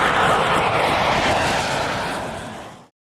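An F-16's F100-229 afterburning jet engine roars under test, a loud, dense, broadband rush that slowly fades before cutting off abruptly near the end.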